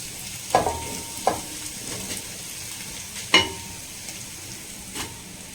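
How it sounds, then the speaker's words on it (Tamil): Grated coconut sautés in ghee for coconut laddu, a soft continuous sizzle broken by several distinct scraping, clinking stirs spaced irregularly. "இந்த தேங்காய் நல்லா வதங்கிட்டு இருக்கட்டும்."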